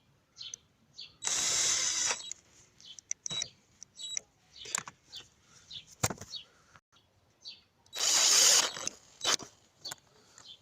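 Rear suspension bolts being tightened on a Honda Vision 110 moped: two long bursts of a power tool's whirring buzz, between them scattered ratchety clicks, taps and metal knocks, all close-up.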